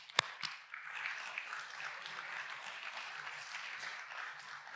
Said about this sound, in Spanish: Así que démosle un aplauso.